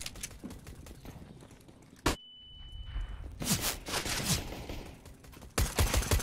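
CS:GO gameplay with rapid bursts of gunfire crackling in quick succession, a short lull with a thin tone, then more loud volleys, close and dense with no talking.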